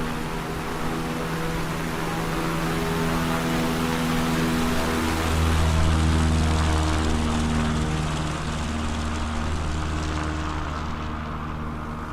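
A propeller plane in Microsoft Flight Simulator drones loudly at full power through a short-takeoff run in an eSTOL contest at Moses Lake, with a steady rich engine hum and a tonal shift midway.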